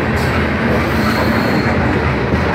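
Norfolk Southern grain train passing close by at night in Griffin, a steady loud rumble of rolling railcars and wheels with faint squeal, continuous throughout.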